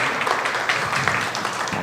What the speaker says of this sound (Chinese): 我们拍手